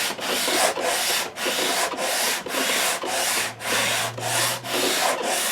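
80-grit sandpaper rubs back and forth along the wooden neck of a 1959 guitar, a loud rhythmic rasping in even strokes of roughly half a second each, close up with no talking.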